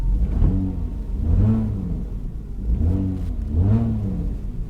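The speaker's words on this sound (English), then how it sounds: "Let's give it a little rev." A 2011 Chevy Camaro SS V8 blips its throttle in a salvage yard, four quick rising-and-falling revs over a steady idle rumble, close and fairly loud with no talking.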